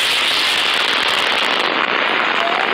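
A bomb explodes in the Roblox video game as a dense, loud, continuous crackling roar that fills the whole stretch at full volume before thinning slightly near the end.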